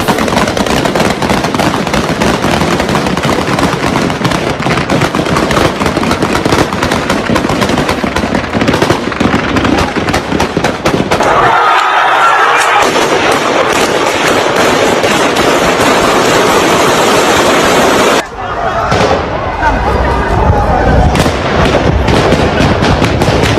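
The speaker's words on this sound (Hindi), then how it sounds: "जब तालिबान के सिक्योरिटी गार्ड्स की धमकी का, चेतावनी का प्रोटेस्टर्स पर कोई असर नहीं पड़ा तो तालिबान ने फायरिंग शुरू कर दी।" Dense, sustained bursts of gunfire crackle almost without pause as Taliban forces shoot at protesters in Kabul, loud and continuous over the whole stretch, with a brief lull and a sharp break near the end.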